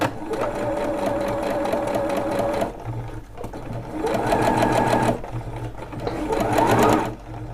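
A Bernette sewing machine stitches a narrow rolled hem with a rolled hem foot, running in three close bursts of rapid, even needle clatter separated by short pauses.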